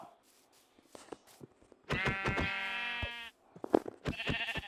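Sheep in the video game Minecraft bleat loudly and close up in a long sustained call, followed by shorter bleats, while someone talks before and between the calls.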